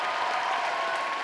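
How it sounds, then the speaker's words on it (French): Crowd applause closing a cosplay contest at the Polymanga 2017 convention, a dense, even wash of clapping held at a strong level through a short burst. "Je vous demande de tous les applaudir encore une fois"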